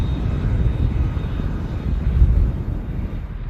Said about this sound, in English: Just touched down from Palma de Mallorca.